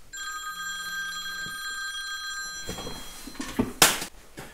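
A telephone bell rings loudly and close, with steady ringing tones for over two seconds, then stops and gives way to handling clatter and a sharp knock near the end.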